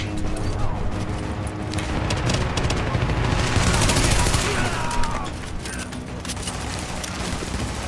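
Sustained gunfire in The Division, a Tom Clancy shooter set in Brooklyn: dense bursts of automatic and single shots rattling continuously over a loud game backdrop, with brief louder volleys, and someone talking at times.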